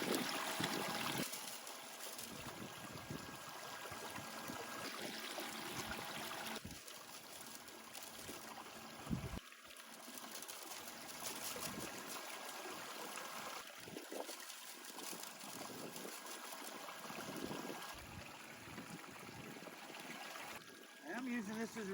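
A Gold Fox trommel used for gold prospecting runs with water flowing through it, giving a steady rushing, trickling wash of sound with mechanical noise and occasional clunks, close and continuous.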